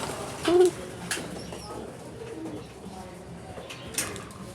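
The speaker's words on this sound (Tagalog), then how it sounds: "Ayan, mga kalapati natin." A single soft pigeon coo rises briefly near the start, followed by faint scattered chirps and rustling in a quiet, roomy third-floor pigeon loft.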